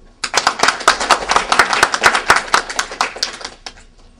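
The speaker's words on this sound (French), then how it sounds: "Je voudrais qu'on les applaudisse." An audience claps at a handover ceremony for the new RHDP USA president: dense, close, loud clapping that starts abruptly and runs for about three seconds before thinning out and stopping.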